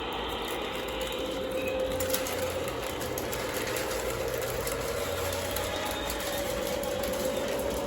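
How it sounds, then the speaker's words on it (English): A Lionel O27 model train running over a newly installed track switch, a steady mechanical whir and rumble of the motor and wheels on the rails, fairly faint and continuous without talk. "Okay, everybody, I installed a switch. I'm just getting ready to run a train over it"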